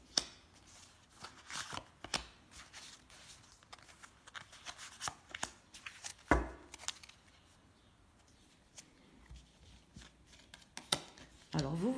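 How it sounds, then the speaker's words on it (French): Tarot cards shuffled and drawn by hand, with quiet papery riffles, soft slaps and sliding swishes scattered irregularly, plus a sharper snap partway through and another near the end; no speech. "je vais sortir 3 cartes"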